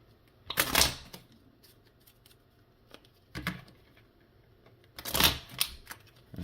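A stack of business-card-size game cards gets shuffled in three quick bursts of riffling and flicking, close up and crisp, separated by quiet pauses.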